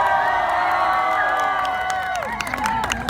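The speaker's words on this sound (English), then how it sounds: "let me know with a massive round of applause" A large outdoor crowd at a Boston New Year's Eve street show cheers, whoops and applauds loudly, with shouts and whistles rising over a dense wash of clapping.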